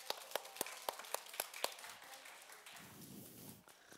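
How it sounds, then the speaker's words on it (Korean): Congregation applause at a children's church worship service, starting with a string of crisp, rhythmic unison claps about a quarter second apart, then loosening into softer scattered clapping with a faint voice near the end; fairly quiet overall. "하나님께 영광의 박수"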